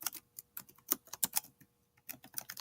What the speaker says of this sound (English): then we can type the name of the book